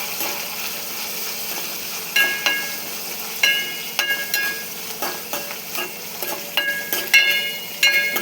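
Food frying in hot oil until golden, a steady sizzle running throughout with scattered scraping and stirring clicks from a utensil, close and moderately loud, no voices.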